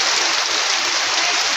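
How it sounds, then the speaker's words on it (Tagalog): Heavy rain pours in a dense, even hiss that stays loud and unbroken throughout, with no talking over it. "Grabe ka kusog sa ulan."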